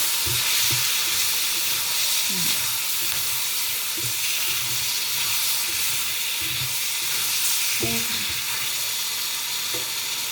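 Shrimp fried rice stir-frying in a pan, a steady loud sizzle and hiss with repeated clinks and scrapes of the spatula at irregular intervals, no talking.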